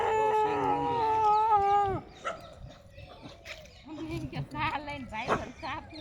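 A dog on a farm lets out a long, wavering howl up close, then falls silent as people talk nearby, with further faint yips and voices following.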